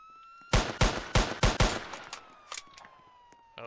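Gunfire in a police roleplay video game shootout: five rapid loud shots in even succession, then a few fainter scattered shots, with a siren-like tone sweeping underneath.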